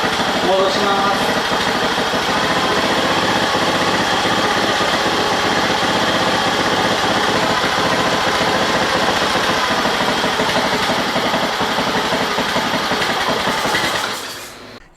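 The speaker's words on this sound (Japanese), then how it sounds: "柔らかい破裂音みたいな音が出るみたいですね" Close-up Honda 2 hp outboard engine idles rich, its even buzzing drone broken by occasional soft pops. It keeps a steady pace, then cuts out and falls silent near the end.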